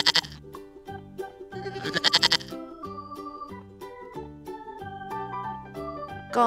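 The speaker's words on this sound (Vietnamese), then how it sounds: "Con dê." A goat bleat heard within a bright children's animal-learning tune, with a couple of short, wavering cries rising over steady musical accompaniment and light jingling, fairly loud and upfront.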